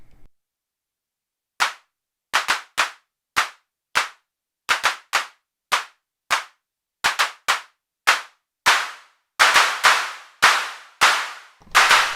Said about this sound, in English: So let's hear our clap on its own, just so we can mess with it.